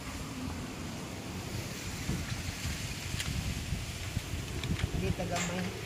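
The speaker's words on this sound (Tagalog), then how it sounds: "Kusog ang hangin niya." Strong wind roars steadily against the microphone, with faint voices and occasional knocks underneath the constant rushing noise.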